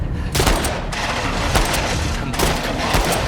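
Loud, dense gunfire erupts in The Last of Us Part II, with several heavy bursts of overlapping shots, close and continuous, while players react under the noise.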